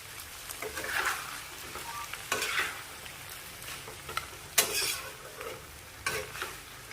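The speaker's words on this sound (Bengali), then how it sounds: "অল্প অল্প করে মেশাতে থাকবো আর কষতে থাকবো।" Chicken thigh curry with coconut milk being stirred and sautéed in a pan, a steady sizzle with repeated scraping strokes of the spoon every second or two, close up and with no talking.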